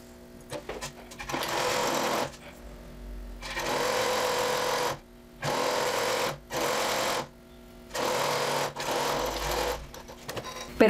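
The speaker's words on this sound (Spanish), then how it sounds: "vamos a coser a 1 centímetro por centro atrás" A sewing machine runs in several bursts of stitching along the center back seam of a blouse with a pleat, each run lasting a second or two with short pauses between.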